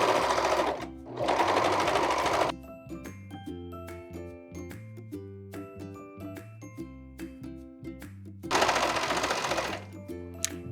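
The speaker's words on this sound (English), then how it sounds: "let's head over to the serger and I'm gonna show you exactly how to serge these sides off." A serger overlock machine stitching down the sides of a sweater, two loud bursts of fast rattling stitching separated by a stretch of quieter background music, then a third burst near the end.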